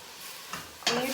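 Chicken egg roll filling cooks in a pan with a steady, soft sizzle, and two brief louder stirring scrapes break through near the end.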